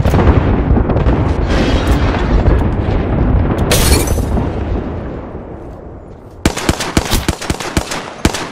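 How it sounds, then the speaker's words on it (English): Airstrike in a shooter video game, a loud continuous roar of blasts and rumbling explosions that fades out, then a burst of sharp rapid gunfire cracks near the end. "There is an airstrike inbound, leaving a gas trap behind."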